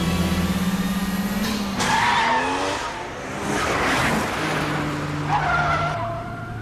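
A Mazda RX-7 FC drives hard with tires skidding and squealing, loud screeching sweeps over a steady engine drone, several squeal bursts close by, no talking.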